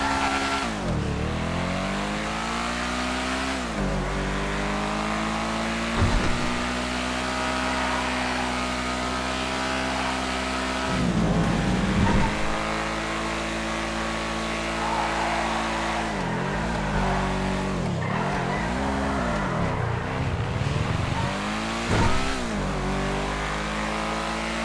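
A two-seater sports car in a driving video game roars steadily, its engine rising and falling through repeated revs and gear shifts, loud and close throughout with brief tire squeals.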